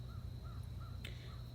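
Crows caw outdoors in a short run of faint, evenly spaced calls, sounding distant over a low steady background hum.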